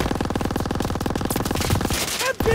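Sustained automatic machine gun fire in Call of Duty: WW2 during a street fight, a fast steady stream of loud close rounds running nearly the whole stretch before breaking off, with a few whistling effects near the end.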